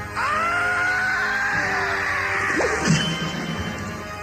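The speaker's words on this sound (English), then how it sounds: "With all his might, he crashed his sword against the trial stone." A sword struck against a stone in a read-along sound effect from The Dark Crystal, with a sustained wailing tone building before a sharp crash and a low groaning fall near the end.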